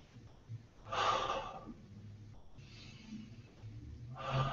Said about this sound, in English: Now that is bad breathing.